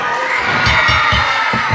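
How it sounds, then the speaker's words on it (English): A wrestling arena crowd erupts at a title match finish, a dense roar of cheering and shouting that stays loud and sustained throughout. "And the crowd erupts."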